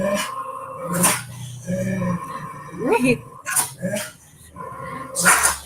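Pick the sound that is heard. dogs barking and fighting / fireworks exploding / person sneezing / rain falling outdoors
dogs barking and fighting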